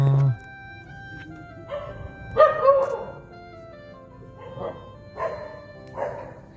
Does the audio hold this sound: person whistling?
no